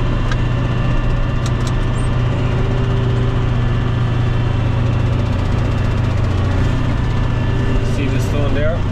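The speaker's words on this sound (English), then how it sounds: "So then rev her up till she's doing about 900 on RPM." A tractor engine drives an 8 ft Major Cyclone mulcher, revving to about 900 RPM and holding a loud, steady mechanical drone close by, with someone talking over it.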